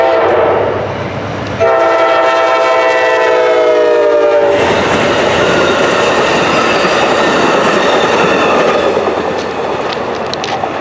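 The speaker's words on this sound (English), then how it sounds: "Amtrak BO 29." An Amtrak passenger train, number 29, passes at Cherry Run, West Virginia: a loud, sustained horn blast, then the heavy roar and rumble of the cars rolling by close up.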